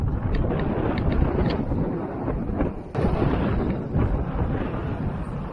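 Strong wind of about 7–8 metres per second blows at a seaside fishing spot on Hatsushima, making a constant loud roar and buffeting against the microphone throughout.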